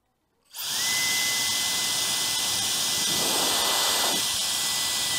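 A small high-pitched blower whines up to speed and runs steadily with a loud airy roar and a piercing constant tone, close by.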